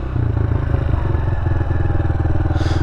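Motorcycle engine droning close and loud while a rider holds a wheelie, a rough steady mid-throttle rumble with a slight rattling pulse and a brief brighter swell near the end.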